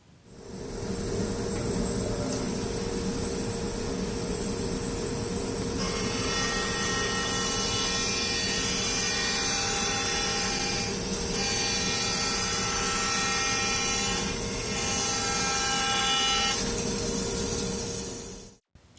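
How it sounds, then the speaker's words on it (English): A bandsaw cuts through old, warped rough wood slabs to square up boards, giving a steady close whirring roar with a whining blade tone that holds for nearly twenty seconds before stopping abruptly. "As you can see, we chose to use the bandsaw here."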